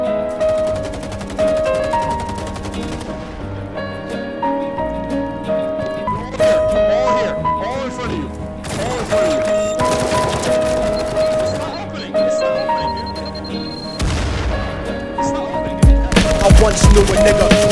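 Rapid bursts of automatic gunfire in a video game, layered over a loud music track with rhythmic beats and shifting tones throughout.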